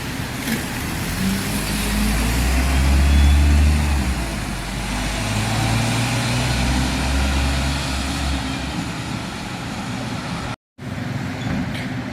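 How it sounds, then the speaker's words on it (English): Two Alexander Dennis E400 double-decker buses, one an E400 MMC, roll into Basingstoke bus station with a continuous low diesel rumble and road noise, loud and close throughout, with a brief cut near the end. "Double arrival into the bus station,"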